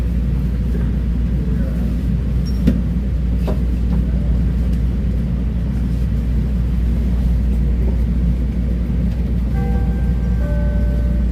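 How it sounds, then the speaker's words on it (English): Steady low rumble of a Chicago L Purple Line Express elevated train car rolling along the tracks, with faint clanks and a brief high tone near the end; continuous and fairly loud. "I'm being jerked around by the train."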